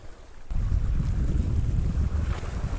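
Brisk side wind on a shore while lure fishing for bass, a loud, constant roar of gusting wind buffeting the microphone, with the wash of waves beneath it.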